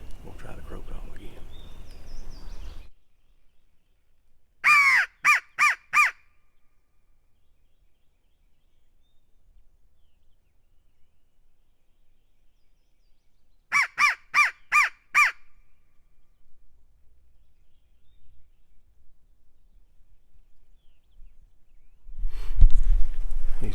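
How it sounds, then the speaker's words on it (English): Two bursts of loud caws come from a crow call blown by a turkey hunter outdoors, each a rapid series of about four or five harsh calls, separated by quiet, with faint rustling and movement near the end. "so we'll try the crow call again."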